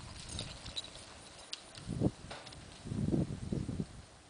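A bay and white tobiano paint pony mare under a youth rider trots in a riding arena, its hooves thudding in soft, irregular clusters of beats against low background rustle.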